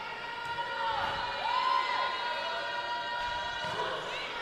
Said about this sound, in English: Crowd's been into this match all night, been loud.